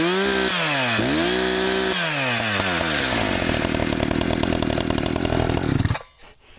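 A hot chainsaw restarts and runs, its engine revving up and down a few times before settling into a steady loud buzz that cuts off abruptly near the end, close and dominant throughout.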